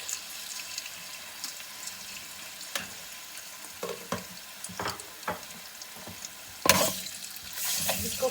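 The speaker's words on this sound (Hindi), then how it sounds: "लहसुन अदरक फ्राई हो चुका है" Garlic and ginger paste crackles and sizzles steadily in oil in a pan, with scattered clinks of a utensil stirring, and a louder burst of sizzling near the end.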